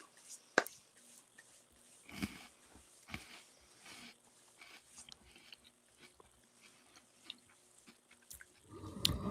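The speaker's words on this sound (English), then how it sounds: "Oh, you can hear that wafer" Crunchy chocolate wafer bitten and chewed close to the mic, with a sharp snap early and several short crunchy bursts spread through quiet gaps, ending in a louder rustle.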